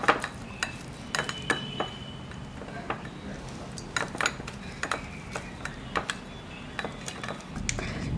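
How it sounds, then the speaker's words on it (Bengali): A boiled egg is grated for a tiffin snack, giving faint, irregular scraping ticks and taps of egg against a metal grater, with quiet kitchen room tone between strokes. "ডিমটাকে গ্রেট করছি"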